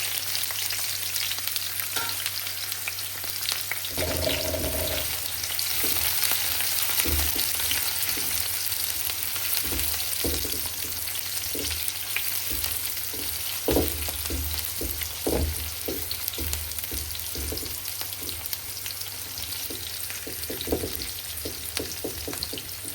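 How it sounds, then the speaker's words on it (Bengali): Garlic and cumin sizzling in hot oil as onions are added for a Bengali chewa fish bhuna, a steady loud frying hiss with repeated scraping stir strokes throughout, no voices. "এবার কিছু পেঁয়াজ দিয়ে দেব।"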